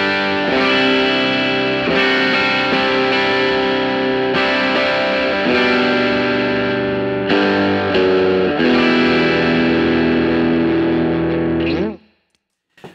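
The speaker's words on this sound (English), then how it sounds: "So this, the Full Drive is kind of my standard overdrive." Electric guitar played through a Fulltone Full Drive 2 overdrive pedal, sustained distorted chords ringing out and changing several times before a final chord fades to silence near the end.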